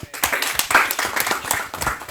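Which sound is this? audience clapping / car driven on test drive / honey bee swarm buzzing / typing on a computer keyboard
audience clapping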